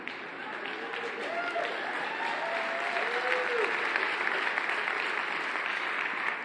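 A large audience applauds steadily and continuously, a dense wash of clapping at even loudness with some faint voices mixed in.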